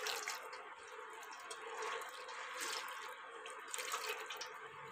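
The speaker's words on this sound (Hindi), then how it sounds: "और इस पर हम डालेंगे एक गिलास ठंडा पानी ताकि जल्दी से ठंडे हो जाए।" A glass of cold water poured over cooked bitter gourds in a home kitchen, a faint continuous splashing trickle lasting several seconds.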